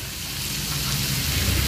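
Chopped onion with torn green chillies frying in a pan for a jackfruit and prawn dish, giving a steady, even sizzle with a low hum underneath, close by and with no talking.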